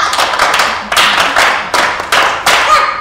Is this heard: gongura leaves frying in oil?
no